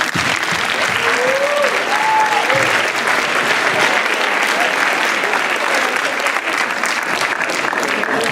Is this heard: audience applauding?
yes